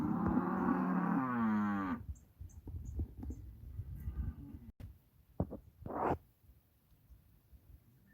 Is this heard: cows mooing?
yes